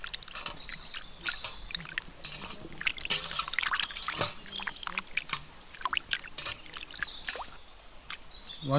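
Raw prawns rinsed under running water, with soft splashing, dripping and trickling that stays close and fairly quiet throughout.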